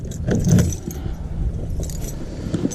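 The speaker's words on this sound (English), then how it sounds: "Keys." A bunch of keys jangles close by after a fishing trip on the Hawkesbury River, metallic rattles rising in a loud burst and then continuing in lighter shakes over a low rumble.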